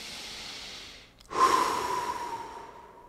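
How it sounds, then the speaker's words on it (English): One deep breath drawn in and slowly let out, close and clear, following a brief quiet pause. "taking a few deep breaths with your eyes closed"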